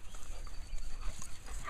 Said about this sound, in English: And this is my dogs. They're being annoying.